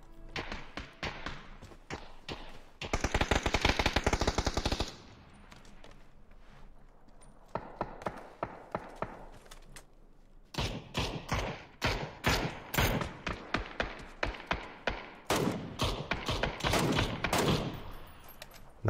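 Gunfire in a video game comes in bursts of rapid, loud shots separated by short pauses, with dense volleys early on and again near the end.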